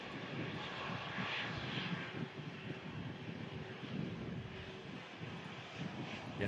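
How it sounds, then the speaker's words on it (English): Airbus A330-300 with CF6 engines taxiing out at an airport, a steady loud jet engine roar with a broad rushing hiss and low rumble, continuous throughout with some wind buffeting and no talk. "On the taxi out, CF6 engines loaded on this Airbus"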